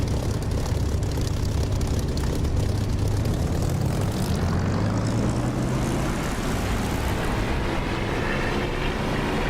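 Propeller aircraft engine throttling up to full power for takeoff in the DCS flight simulator, a loud, steady droning roar that swells and rises in pitch as the plane accelerates, with no voices.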